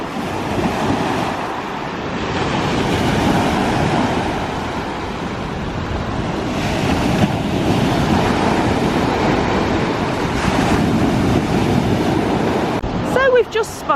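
Sea waves wash steadily onto the Cornwall coast, a continuous broadband surge with wind buffeting the microphone, loud and close, brief handling noises near the end.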